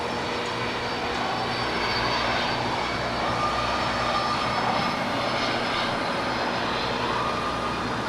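A jet airliner taking off from runway 25 right at LAX: a loud, steady engine roar holds for the full eight seconds, broad and continuous with no voices over it.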